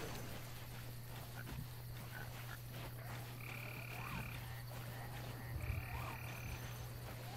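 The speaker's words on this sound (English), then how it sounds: "I hear frogs." Frogs croaking in the Sea of Thieves video game, a couple of drawn-out croaks standing apart over a steady low ambient hum and background noise, fairly close and clear.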